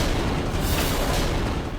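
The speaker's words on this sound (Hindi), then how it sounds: "किसने दिए अग्नि को ये पटाखे?" Firecrackers exploding during a tense family scene in a Hindi TV drama, a dense, continuous crackle of overlapping pops and booms filling the whole stretch, loud and close.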